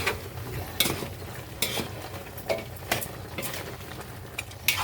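Sinigang ingredients being stirred in a pot, with a soft simmering sizzle behind a series of spaced spoon scrapes and clinks against the pot, about seven or eight strokes, quiet and close with no talking.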